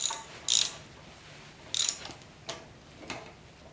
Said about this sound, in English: Put the nut on this end, and that tightens the bolt against the inside of the yoke.